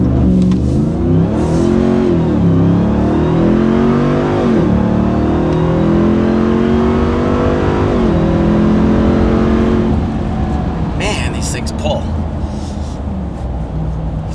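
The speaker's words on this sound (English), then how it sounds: "just a big, big muscle car sound" A RAM 1500 TRX pickup with an MBRP 3-inch cat-back dual rear exit exhaust revs hard and roars with deep, rumbling exhaust, rising and falling in pitch across several throttle blips, loud and close.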